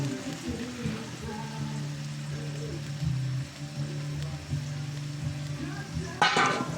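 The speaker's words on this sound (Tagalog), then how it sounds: "lalagyan na natin yung ating purong gata" Pure coconut milk going into chicken Bicol Express as it simmers in a pot, a steady soft bubbling and sizzling hiss with low stirring noises and a brief louder scrape near the end.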